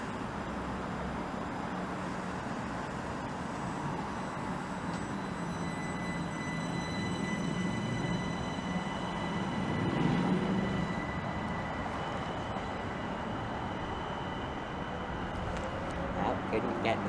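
A passenger train pulls out of Maidenhead station on the Great Western Main Line toward Twyford, a continuous low rumble and hiss of rolling stock swelling slightly midway, with faint traffic noise around it.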